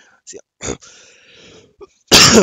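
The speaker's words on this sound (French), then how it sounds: "je tousse" A couple of short coughs and throat-clearing bursts, close and abrupt, separated by brief pauses, ending in a loud sharp burst.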